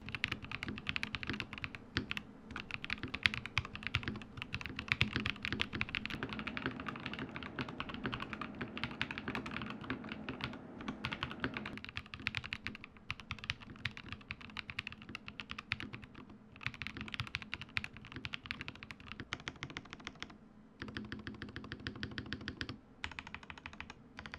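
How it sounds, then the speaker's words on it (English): Steady fast typing on a custom Razer BlackWidow V4 keyboard fitted with PE foam, giving close, dense, clacky keystrokes with short breaks, alone without any talking. "Just listen to how it sounds first and be the judge, okay?"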